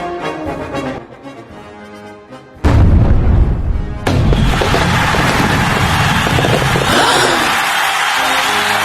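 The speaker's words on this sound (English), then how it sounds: "we got the next firework" A Bonfire Night firework goes off with a sudden loud boom, and a second burst follows moments later, leaving a long crackling, hissing roar that fills the air, close and powerful.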